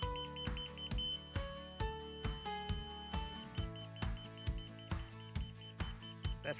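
Laser level receiver checking the grade for a poured screened-in patio, giving a steady, slow string of evenly spaced electronic beeps, fairly faint over a background of tonal hum.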